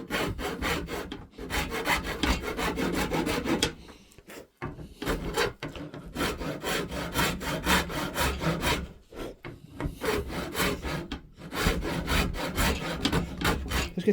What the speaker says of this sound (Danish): Saver ned med den flade side, der hvor at strengen skal hvile